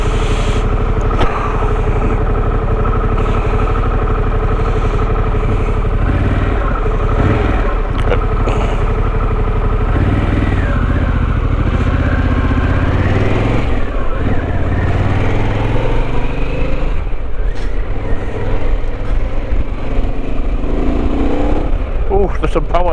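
A Harley-Davidson Pan America motorcycle on a test ride pulls strongly, its engine roaring and rising in pitch through the gears. The sound is loud and continuous under wind noise, and a rider speaks over it at times.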